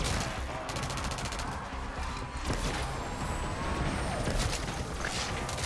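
Dense gunfire rattles steadily in MW3 Zombies during the final mission against Zakhaev, rapid automatic bursts layered with scattered shots and a loud, busy battle din throughout.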